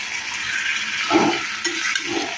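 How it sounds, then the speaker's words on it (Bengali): Mutton being stir-fried as kosha in a pan: a close, steady sizzle with a few scraping stirs and soft clatters of the spoon against the pan. "চলছে হচ্ছে মাটন কষানো"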